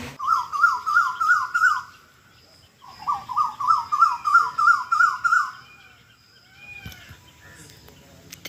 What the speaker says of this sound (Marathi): तिकडं मोरांचा आवाज, इकडं कोकिळचा आवाज